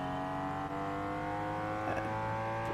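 Race car engine in the Gran Turismo 4 video game droning at steady high revs, a buzzy, harmonically rich tone heard close and loud, with a brief dip near the start and no talking.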